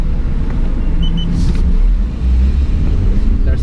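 A 2018 BMW X3 G01 accelerates with its transmission in the most aggressive setting, a steady, loud low engine drone and road rumble heard from inside the cabin with no pause.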